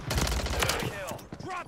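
Video game gunfire aimed at the player, a dense burst of rapid shots filling the first second, then thinning out as brief gaming voices and tonal game sounds take over.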